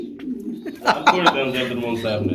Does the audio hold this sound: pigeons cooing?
yes